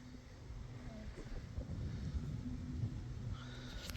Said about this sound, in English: the wind just started